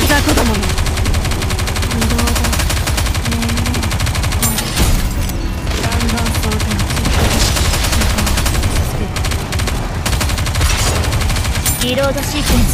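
Constant heavy gunfire and machine-gun bursts from the video game NIKKE chapter 9 EX battle play loudly and continuously, layered with game music and effects, and a character voice speaks over the action.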